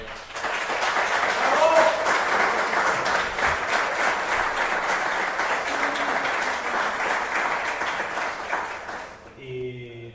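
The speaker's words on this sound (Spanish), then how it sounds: "te transmito la ovación de" Sustained applause from a room full of people at a presentation, steady dense clapping for about nine seconds before it fades out abruptly.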